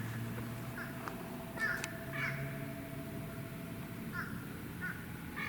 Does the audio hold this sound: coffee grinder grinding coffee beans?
no